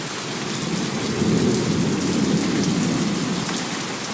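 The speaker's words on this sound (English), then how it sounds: "Oh no, it's pushing the rain in here." Heavy thunderstorm rain pours steadily in Steelton, Pennsylvania, with deep thunder rumbling beneath the constant hiss, loud and close, and no voices.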